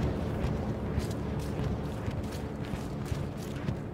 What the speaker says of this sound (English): I still hear that tank.